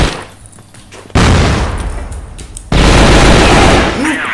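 Bursts of rapid gunfire from the online shooter CrossFire, loud, dense and close, with two sharp onsets of sustained shooting and brief quieter gaps between them.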